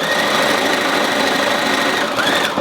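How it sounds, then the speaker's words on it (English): Sewing machine stitching binding onto fabric, a loud, continuous fast mechanical whir and rattle up close, steady throughout without pause or talking. "I'm going to sew back to my first spot."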